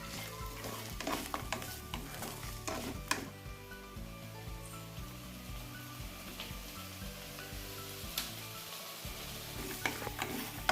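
Grated coconut and foxtail amaranth stalk greens are stirred as they lightly sauté in a pan. There is a faint, steady sizzle with soft scraping stirs and small clinks, and nobody talks.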